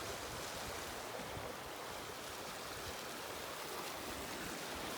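The Spray River flows beneath a footbridge on a backcountry trail, a steady broadband rush of moving water, fairly close and continuous with no voices over it.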